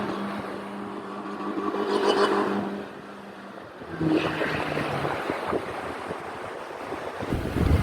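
Sea waves surge and wash at Kozhikode beach, where boats take visitors out. Gusts of wind buffet the microphone, and the rolling surf rises and falls across the clip.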